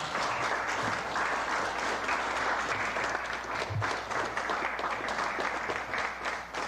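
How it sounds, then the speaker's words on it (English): A dense, steady round of applause from an audience at a London Stock Exchange event, many hands clapping continuously for several seconds at an even loudness before tailing off slightly. "for him to get a round of applause"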